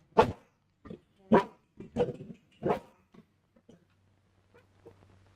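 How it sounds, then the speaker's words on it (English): A guard dog barks about five times in a quick, uneven series, close and sharp, then trails off into a few faint sounds over a quiet background. "And then, you know, he's a guard dog."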